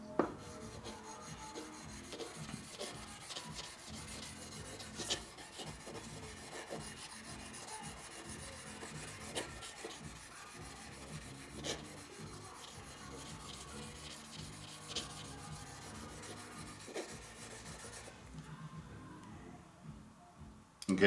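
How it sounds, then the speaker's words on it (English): Hand sanding on the steel blade of a Spyderco Manix 2 XL knife in Cruwear steel, working out scratch marks; steady, close rasping strokes repeat continuously and evenly, fading near the end. "This right now is more of the sanding part where I'm trying to sand out scratch marks."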